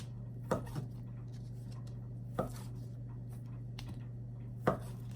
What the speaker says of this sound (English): Take your biscuits and cut them into fourths.